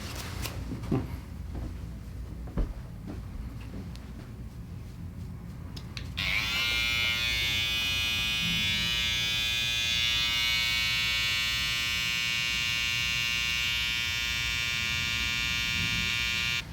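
A barber's electric shaver works on hair during a real haircut. After a few quiet clicks and handling sounds, it switches on partway through and holds a loud, steady buzzing hum close up to the end.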